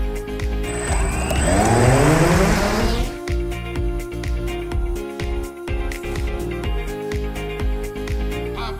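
A car starts off again, its engine revving and whining upward before settling into a rough rumble with knocks and rattles as it drives away.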